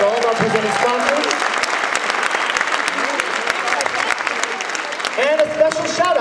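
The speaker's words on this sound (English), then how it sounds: "Nice round of applause for all of our presenting sponsors." Applause from a festival opening ceremony audience thanking presenting sponsors, a steady wash of clapping running throughout with a voice talking over it at the start and end.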